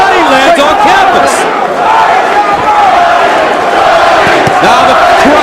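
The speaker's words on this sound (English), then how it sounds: "Now the crowd trying to get behind John Duddy" A large arena crowd at the John Duddy vs Luis Ramon Campas boxing fight roars loudly and without a break, with yells and cheers rising and falling as the crowd gets behind a fighter.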